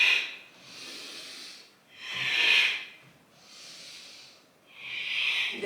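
Three slow breaths out and in during a dynamic yoga flow, each long airy whoosh swelling and fading in a steady rhythm, close and fairly quiet with no talking.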